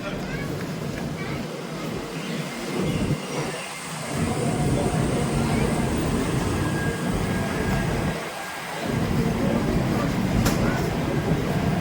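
Steady, loud rail rumble and rattling of a train, with voices murmuring faintly underneath throughout.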